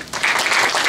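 Brief burst of audience applause in a classroom setting, dense clapping rising quickly and holding loud for under a second.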